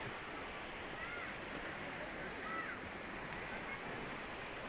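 Steady broadband wash of surf rolling onto a shore under overcast, bad weather, continuous and moderately distant, with a faint breeze and no clear individual wave breaks.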